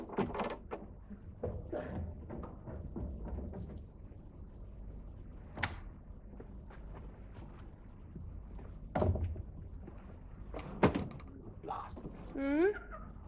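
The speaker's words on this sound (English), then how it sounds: "Lock front door." Front door of a house being locked and closed at night, heard as a series of close wooden thunks, clicks and knocks scattered through the passage, with occasional brief vocal sounds.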